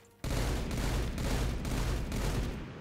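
A burst of plasma pistol fire in a modded Halo 4 game, a loud, dense crackling volley that starts abruptly and sustains for over two seconds with slight pulsing, then eases off.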